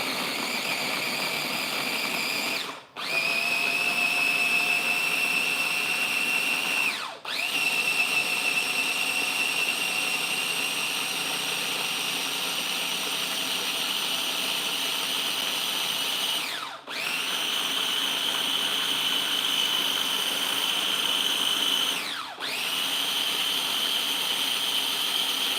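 A blender whizzes tomato sauce in long, loud, steady bursts, a high whirring motor with brief pauses and pitch dips between runs.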